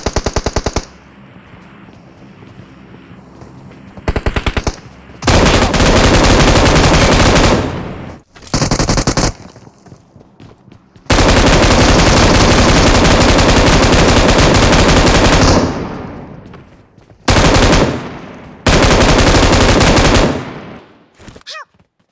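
Long, loud automatic bursts from an M249 machine gun in a video game, sustained streams of rapid fire broken by short pauses and a few briefer volleys.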